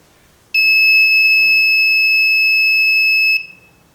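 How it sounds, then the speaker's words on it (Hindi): An Arduino buzzer triggered by a PIR motion sensor sounds one loud, steady high-pitched electronic tone for about three seconds, starting abruptly and cutting off sharply, with faint handling noise before it. "जब हम इसके सामने हाथ लाते हैं तो आप देख सकते हैं क्या कि यह बजर और रेड एलईडी जलने लगता है"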